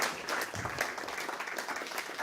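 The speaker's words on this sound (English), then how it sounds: "Let's give them a round of applause." Steady, fairly quiet applause from a church congregation at a Sunday spiritual-center service, continuous clapping without pauses for a couple of seconds.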